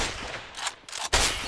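Gunfire in a video game, a dense, loud burst of rapid shots with a short pause before a final sharp volley, close and filling the whole clip.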